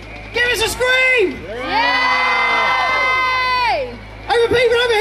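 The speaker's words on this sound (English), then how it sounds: "if you've got a voice on you, give us a scream!" Children and adults in a crowd at the 2012 Olympic torch relay in Beith scream and cheer in a long, loud sustained burst, with shorter shouts before and after.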